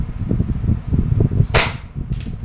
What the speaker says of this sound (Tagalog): Made in Taiwan, airsoft gas blowback pistol. Okay, testing, chronograph testing.